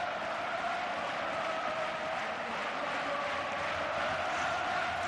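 Football stadium crowd at a Spanish league match, Real Zaragoza against Espanyol, doing a Mexican wave: a steady, broad roar of many voices with light cheering, distant and continuous with no clear peaks.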